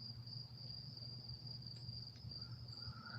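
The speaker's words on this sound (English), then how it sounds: "We got the crickets going on." Crickets chirp steadily outdoors in a constant, shrill trill, faint and continuous from start to end, with no one talking.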